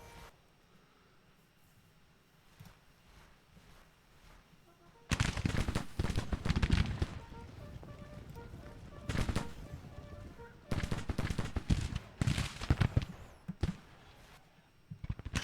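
Massed rifle volleys from Civil War infantry in the Grand Tactician strategy video game. Quiet at first, then loud crackling musketry erupts and rolls on in repeated waves of dense popping shots.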